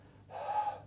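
A single audible exhale, breath pushed out steadily for about half a second after a short quiet pause, close and soft, during a Pilates spine twist exercise.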